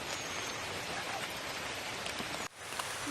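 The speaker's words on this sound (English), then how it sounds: "So it's starting to rain." Rain falls steadily in a rainforest, a dense even hiss of drops pattering on leaves and surfaces that briefly drops away near the end before resuming.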